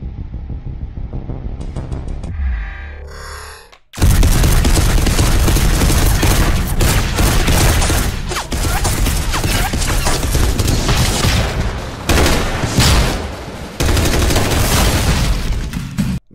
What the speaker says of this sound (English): Now the bullets that the Astartes are firing are not bullets. They are literally mini rocket propelled grenades.